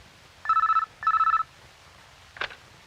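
An old-style telephone ringing in an office, two clear electronic trill bursts in quick succession followed by a short click as it is picked up, close and distinct over quiet background.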